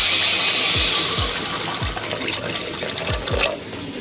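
Water pours into a pot of fish curry, a continuous splashing stream with a few low gurgling plops, close and fairly loud, with no talk.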